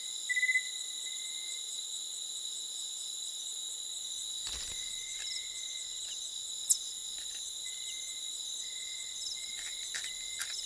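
A live cricket offered as prey to a young tarsier chirps in continuous high trills throughout. The sound is steady and fairly faint, with one brief rustle midway and no talking.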